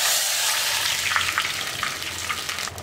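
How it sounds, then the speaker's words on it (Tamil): Mustard seeds and dried red chillies frying in hot oil for rasam give a steady, close sizzle, with sharp little pops and crackles breaking through toward the end. "எண்ணெய் காஞ்சிடுச்சு, கடுகு போட்டுக்கலாம். வரமிளகாய் 1/4, நல்லா எண்ணெயில் வறுத்துடுங்க."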